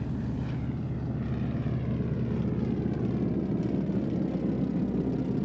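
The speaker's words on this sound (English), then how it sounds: "When airplanes were heard" A group of propeller airplanes approaching on a Sunday morning, heard as a steady, moderately loud droning engine hum that holds throughout with no talk.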